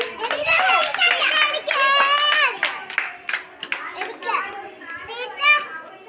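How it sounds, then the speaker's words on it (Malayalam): A group of children claps in quick, uneven bursts during a classroom alphabet game, with lively kids' chatter and shouting mixed in close by. "കൈയടി"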